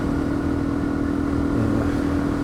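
A motorcycle cruising on asphalt, a steady loud engine hum with a constant tonal drone and wind rush, close and unbroken throughout.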